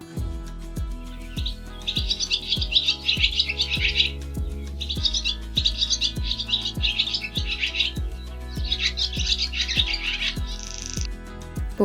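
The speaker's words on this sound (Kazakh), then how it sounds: "Қарлығаш" A swallow twitters in three busy bursts of rapid, high chirping, fairly close, layered over continuous background music.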